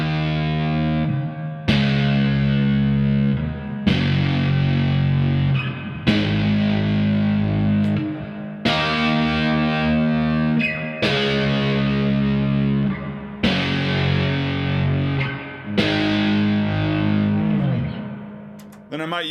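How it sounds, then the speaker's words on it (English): Electric guitar through a fuzz distortion preset with boost on a POD Go into a Fender Blues Junior, a series of loud, gritty sustained chords struck in steady succession, played alone. "the distortion pedal that I'm using on my podgo with a boost"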